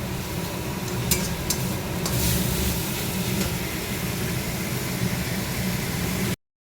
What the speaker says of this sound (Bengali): এটাকে ভালো করে ভেজে নেবো।